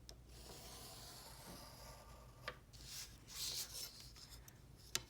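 Faint, soft scratching of a pencil drawing a line along a ruler on paper, a quiet continuous rub with a few small ticks near the end.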